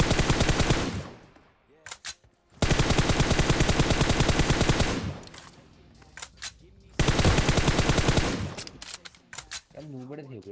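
Rapid automatic gunfire in PUBG Mobile comes in three long, loud, dense bursts separated by quieter gaps, with a few isolated shots and game sounds in between.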